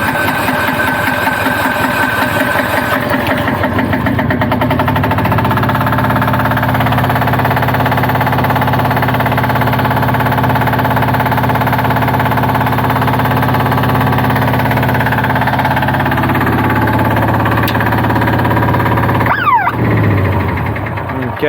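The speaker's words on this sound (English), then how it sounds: "so you can start diesel engine and you can start using machine" A diesel engine on a machine running after its flat battery was recovered, a loud steady drone close by that shifts in pitch partway through, with a brief clatter near the end.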